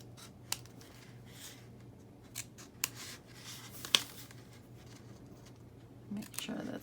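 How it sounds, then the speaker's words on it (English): Scissors trim a paper star in a few faint, sparse snips and crisp cuts spread over several seconds in a quiet room, with low handling rustle between them. "I'm just gonna trim this off"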